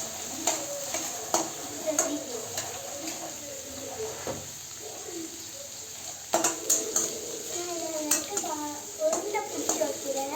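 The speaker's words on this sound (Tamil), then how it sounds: "அடுத்து மிக்ஸ் பண்ணிட்டாங்க. நல்லா வதக்குறாங்க." A potato mixture for aloo paratha is sautéed in a pan, a soft sizzle under repeated spoon scrapes and clinks, with voices talking intermittently in the background.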